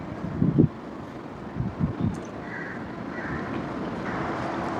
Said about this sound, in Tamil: காற்று வேறு அடிக்குதா